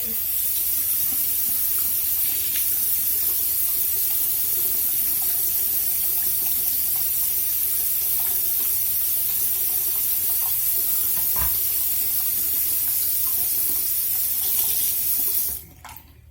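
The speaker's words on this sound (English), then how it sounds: "But I'm going to run the water." Tap water runs steadily from a faucet into a sink, wetting a bar of soap while makeup brushes are cleaned, a continuous close hiss that stops abruptly near the end.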